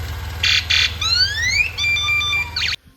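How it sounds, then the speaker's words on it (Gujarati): A motorbike's electronic horn sounds up close: two short buzzing beeps, then rising whooping tones and a steady warbling tone, before it cuts off abruptly. "હોરન મારજો એકવાર"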